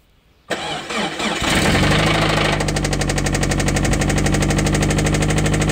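Subaru engine cranking and starting, then running with a loud, rapid metallic knocking from a valve striking a cylinder, a harsh mechanical rattle after an apparent timing belt fault, close and continuous.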